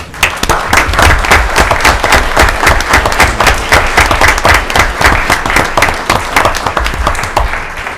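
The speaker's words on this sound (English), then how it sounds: "Could we please give them a round of applause?" A large crowd at a town council meeting applauds steadily for the full length, dense continuous clapping with no pauses and no voices standing out.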